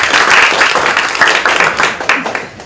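Audience at a company town hall meeting applauding together, a dense burst of clapping that holds steady and then thins out toward the end, with some voices mixed in.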